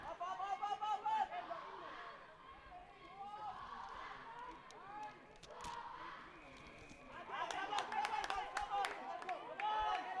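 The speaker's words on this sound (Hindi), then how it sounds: "ये तालियां बजाकर स्वागत किया गया है गोवा के इस मूव का" Spectators clap at a women's rugby match between Kerala and Goa at the National Games in Goa; scattered applause rises late in the clip under constant excited commentary and crowd murmur.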